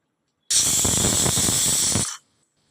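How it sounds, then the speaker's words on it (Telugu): A pressure cooker holding tamarind-leaf chicken curry vents one sharp, loud steam whistle. The hiss bursts in abruptly, holds steady for about a second and a half, then drops away into silence. "ఒక విజిల్ వచ్చేసిందండి"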